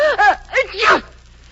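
A sharp sneeze, with a couple of quick breathy catches building up before the main burst, then quiet.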